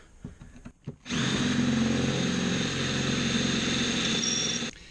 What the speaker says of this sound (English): I'm gonna drill in two holes now